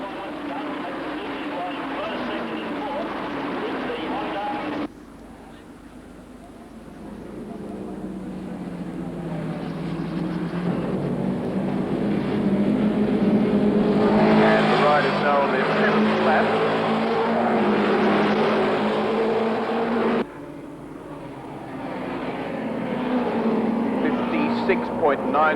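A Suzuki racing motorcycle at a 1983 Castrol six-hour production race roars past at speed, a loud rising and falling engine drone that swells close and fades, with commentary running over it.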